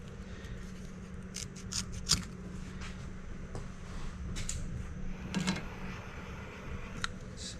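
Scissors snip away material while wiring a new fuel pump on a gap-style train setup, a scattering of short sharp cuts spread across the stretch over a low steady hum, with no talking.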